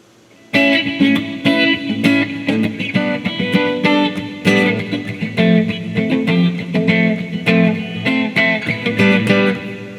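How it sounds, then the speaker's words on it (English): An electric guitar on its humbucker pickup plays undistorted, full, rich chords and picked notes, loud and close, ringing on steadily throughout. "much fuller sound with the humbucker, of course"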